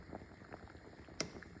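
Potatoes boiling in a pot of water on the stove bubble softly and steadily at close range, with a brief sharper knock partway through.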